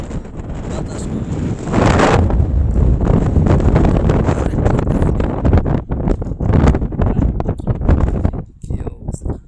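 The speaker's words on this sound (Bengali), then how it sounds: "সৌদি আরবে বৃষ্টি হয় না, কিন্তু এরম যদি ঝড় উঠে অবস্থা খুব খারাপ" A gusty dust storm in Saudi Arabia roars against the microphone, loud and turbulent for most of the stretch, then breaks into choppy buffeting before easing.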